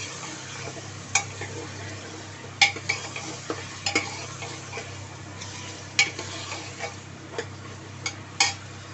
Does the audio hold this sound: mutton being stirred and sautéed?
yes